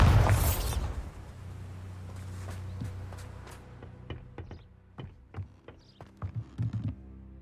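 A Bombarda spell blast in a Harry Potter-style magic game bursts loudly at the start with a low rumbling boom, then fades into a stretch of scattered clicks, small impacts and thuds.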